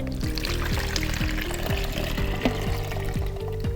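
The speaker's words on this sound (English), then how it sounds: "So the fixer is done, we pour it out." Used photographic fixer poured out of a developing tank during film processing, a steady continuous splashing stream of liquid lasting throughout, close and fairly loud with no talking.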